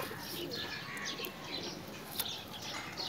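Teddy pigeons, with some Rampuri blood, coo softly nearby in low, repeated murmurs, with occasional brief flutters and background rustling.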